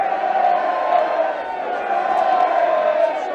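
A near-full stand of rugby supporters at an under-18 Premiership final roars in a sustained, loud wall of cheering and shouting, with a commentator's voice running over it.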